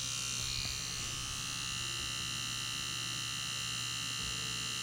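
An Ez Tattoo Nano tattoo machine fitted with a thin needle runs with a steady, even electric buzz and hum that holds at a constant level throughout, close up and without talk.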